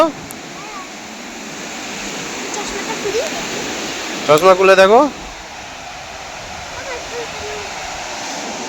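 Steady broadband wash of sea waves fills the whole stretch, with people talking over it and a brief louder voice burst near the middle.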